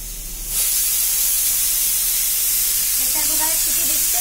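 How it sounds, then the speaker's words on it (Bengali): A pressure cooker boiling green bananas starts hissing abruptly after a brief quiet moment, then keeps up a loud, steady rush of escaping steam to the end, with faint background sounds near the close. "তো প্রেশার কুকারে কাঁচকলা সেদ্ধ করতে দিয়েছি, আর এদিকে কড়াইতে তেল বসিয়ে দিয়েছি।"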